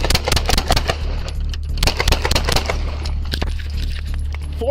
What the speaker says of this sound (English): 481, shots fired!